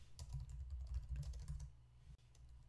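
Fingers type rapidly on a computer keyboard in a quiet room, a close, dense run of soft clicking keystrokes that thins out toward the end, with one sharper tap near the finish.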